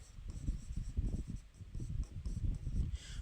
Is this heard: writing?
yes